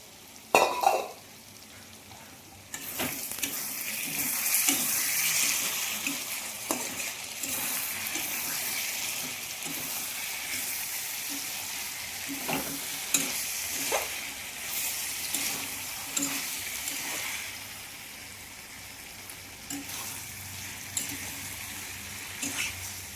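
Chicken with capsicum and spices stir-fries in a pan, a soft continuous sizzle broken by repeated scraping stirs and light clinks of utensil on metal, close by and moderately quiet.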